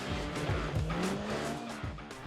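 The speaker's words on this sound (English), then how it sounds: "It stops hard for a big car." A Polaris RZR Pro R off-road vehicle brakes hard with tires squealing and skidding, a strained whine rising over engine rumble, close by.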